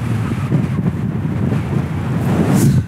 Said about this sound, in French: Merci le vent.